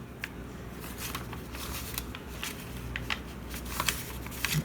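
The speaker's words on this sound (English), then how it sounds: "Now this one, you're going to fold it almost to the fold line." Sheets of paper being folded and creased by hand for a junk journal, giving soft crackles and rustles with several sharper crinkles, close and moderately quiet, with no talking.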